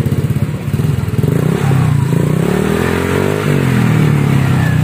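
A Honda Vario 150 scooter fitted with a racing exhaust starts and idles loudly nearby, its engine running in a rapid, throbbing putter with slight rises in revs.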